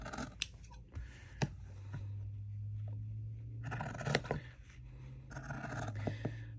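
Scissors snip through paper-basted fabric quilt pieces at close range, with a few sharp cuts and soft scraping and rustling of material between them.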